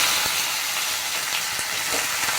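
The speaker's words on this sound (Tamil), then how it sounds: "எண்ணெய் ஊற்றிருக்கேன். கடுகு போட்டு பொரிஞ்ச உடனே கருவேப்பிலையை போட்டுடணும்." Hot oil crackles and spits steadily as mustard seeds splutter in it, a dense bright sizzle with occasional sharper pops, close by and with no talking.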